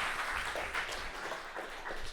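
Brief applause from a seated audience at a student flash-talk session, a steady wash of moderate clapping lasting about two seconds with no voices on top.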